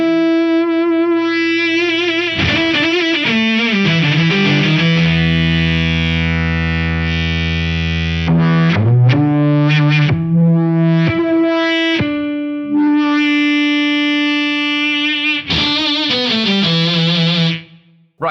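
A Boss SY-1 synth pedal playing a guitar through it as its tone and depth controls are changed, long sustained synthy notes with shifting harmonics and bright filtered swells, alone and loud.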